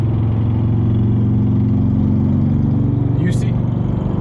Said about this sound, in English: You don't come up here with that loud motorcycle.